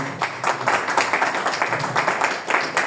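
Applause at a book day panel in Cajamarca as a doctor is called to the head table, a brisk burst of many hands clapping at moderate volume, fairly close.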